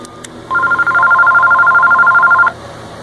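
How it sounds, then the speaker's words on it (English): An analog home telephone on a private phone network gives a steady two-tone electronic ring lasting about two seconds, loud and close, preceded by a couple of faint clicks. "and that phone rings"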